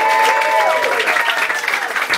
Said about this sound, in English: give him a round of applause for his birthday